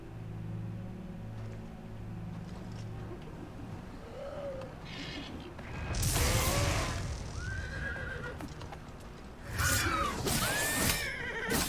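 A horse in the video game Elder Scrolls IV: Oblivion Remastered gives several loud, close whinnies and neighs, with hoof clip-clops and low game ambience between them.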